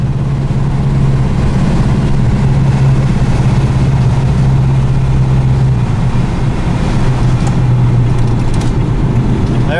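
A turbocharged Volkswagen Beetle engine idles steadily up close, a loud, continuous low hum with a faint droning tone, and no voices.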